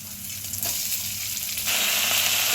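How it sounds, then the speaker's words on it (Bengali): Rice sizzling as it fries in ghee in a pan with raisins, a steady, close hiss that grows louder partway through, with no voices. "এবারে এইভাবে চালটাকে আমি ভালো করে ঘিয়ের মধ্যে একটু ভেজে নেব।"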